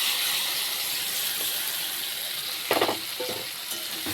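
A bitter vegetable chorchori fries gently in a pan with a continuous close sizzle, broken near the end by a few clanking stirs of a utensil against the metal.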